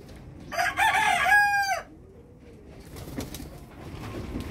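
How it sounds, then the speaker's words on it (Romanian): A single loud rooster crow rings out close by for about a second, followed by quieter farmyard background noise. "Au ce glas puternic are cocoșul."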